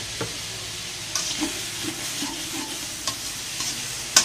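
Pork belly and basil stir-fried in a pan, with a steady sizzle and frying hiss throughout, punctuated by several sharp clanks and scrapes of the spatula against the pan; no talking.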